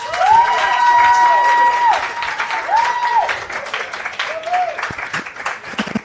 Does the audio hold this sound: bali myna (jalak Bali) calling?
no